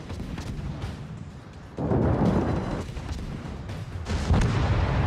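Torpedo hits and gunfire in the naval battle game World of Warships, with a low rumble of booming blasts and bursts that swell in loudness at intervals, without talk.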